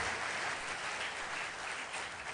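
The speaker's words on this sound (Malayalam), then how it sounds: "ശരിക്കും കൊടുക്കാം നല്ലൊരു കൈയടി ഒരിക്കൽ കൂടി നമുക്ക്." An audience at a Jacobite Syrian Orthodox choir music program applauds after a song, a brief, even wash of clapping heard alone, moderately distant.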